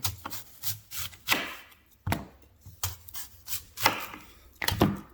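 A knife roughly chops onions on a cutting board in uneven bursts of knocks and scraping strokes, close and clear, with no talking.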